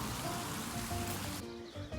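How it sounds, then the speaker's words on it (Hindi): Rain falls steadily outdoors in Bahrain, a continuous soft hiss of drops on surfaces, fairly quiet and unbroken with no talk. "आज बहरीन में बहुत ही खूबसूरत बारिश हुई है, मौसम भी बहुत ही अच्छा हो गया है।"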